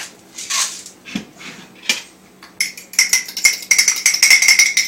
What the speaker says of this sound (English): You just mix them up a little bit.